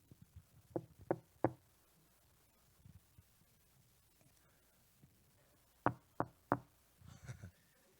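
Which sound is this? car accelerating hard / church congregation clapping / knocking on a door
knocking on a door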